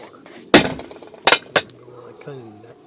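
A hammer strikes a spent 30-06 Springfield brass cartridge used as a punch to cut a hole in a gasket, giving three sharp metallic blows, one alone then two close together, with a brief voice after.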